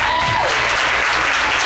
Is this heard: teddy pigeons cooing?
no